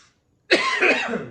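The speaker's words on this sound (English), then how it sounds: "Getting over a cough." A single harsh cough bursts out after a brief silence, close and fairly loud, trailing off quickly.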